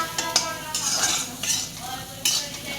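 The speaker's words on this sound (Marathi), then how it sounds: "पूर्ण असा कांदा भाजून घ्यायचा आहे लाल होईपर्यंत।" Chopped onion stirred and frying in oil in a pan, a soft continuous sizzle with scraping strokes of a spoon, close up and without speech.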